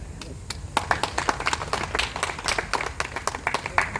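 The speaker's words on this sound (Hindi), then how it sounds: "साथियों, ताली बजाने में आप लोग गुंजाइश कर रहे हैं" An audience at a Jan Seva Dal political meeting in Bijnor claps in loose, uneven bursts, sharp individual hand claps scattered rather than a full ovation, over a low murmur of the hall.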